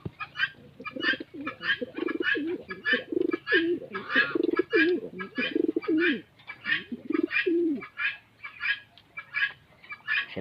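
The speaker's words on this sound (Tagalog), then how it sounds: "Tapos ito naman po yung ating mga ibon, kalapate." Pigeons coo in a backyard coop, a steady run of close, soft, rolling coos that ripple on and off, with faint chirps and other bird calls scattered throughout.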